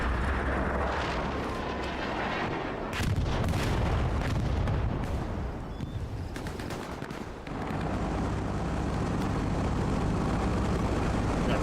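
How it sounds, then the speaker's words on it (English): Dense, continuous gunfire and booming blasts fill a foggy night battle in a shooter video game, with overlapping shots, heavy rumbling impacts and a brief dip before the barrage swells again. "Got Jackson, Katobi, Milo shooting through the fog at muzzle flash."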